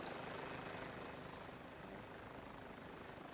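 Helicopter in the video game BRM5 gives a loud, steady, close rotor and engine drone that holds unbroken throughout, with no voices.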